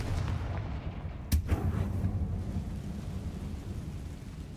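Confringo fire spell cast in Hogwarts Legacy, a single sharp blast followed by a rumbling, crackling roar that fades over a few seconds, no talking.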